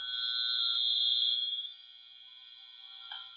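A faint, steady high-pitched electronic tone from a dropped cable toner drones on, weakening partway through and ending with a small click.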